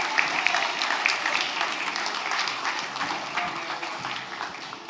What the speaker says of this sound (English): should we give them a huge round of applause to the angels?